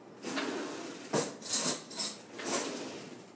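Metal spoon rattling and clinking against other cutlery while being picked out of a kitchen drawer, several short clattering bursts close by with no talk.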